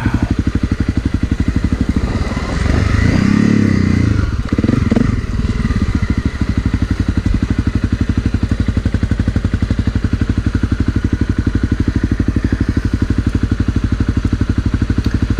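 An enduro motorcycle on a tubeless Motaz tire rides downhill with a steady, loud, close engine drone and a rapid pulsing beat. The engine swells briefly early on and is joined by some rattling, with no talking.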